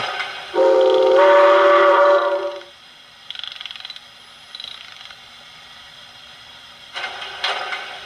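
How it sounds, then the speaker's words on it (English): A steam whistle from a Blunami 4408 sound decoder in an O scale Williams 3-rail Hudson model blows one long, loud tone lasting about two seconds, followed by softer hissing and a few light mechanical clicks. "And here's the long whistle."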